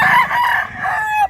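A rooster at a livestock market in Mantalungon, Barili, Cebu, gives one loud, close crow that lasts just over a second, heard alone without voices.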